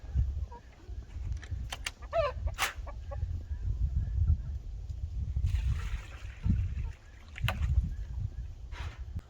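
Chickens, including an all-black Ayam Cemani, cluck in a chicken tractor on a snowy day, with a few short calls over a low rumble of movement and handling.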